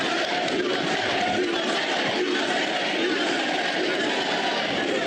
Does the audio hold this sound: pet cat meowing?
no